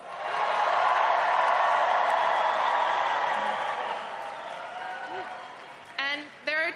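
A large crowd at an election night event in New York gives sustained, loud applause and cheering that slowly tapers off before a voice starts speaking.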